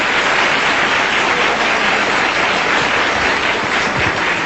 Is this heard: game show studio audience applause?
yes